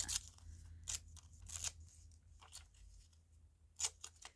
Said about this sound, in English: I'm just thinking how I want to tear this one